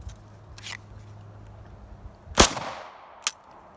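Glock 17 pistol fired at an outdoor range, two sharp loud shots about a second apart with a faint echoing tail, preceded by a softer click and low hum, with no talking.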